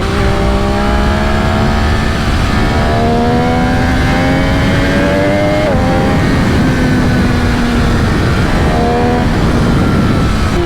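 A 2020 MV Agusta F3 800 RC motorcycle rides steadily while the engine climbs through the gears, its loud rising whine dropping with each shift and then pulling up again, continuous and close.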